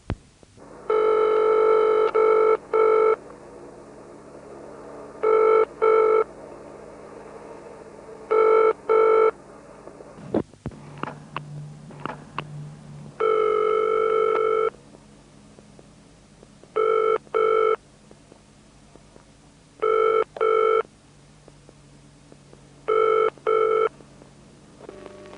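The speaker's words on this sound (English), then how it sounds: "followed by ringing in the conventional cadence" British telephone ringing tone from 1971 in the conventional cadence: repeated double bursts of ringing over a phone line, evenly spaced, clear and alone apart from faint line noise.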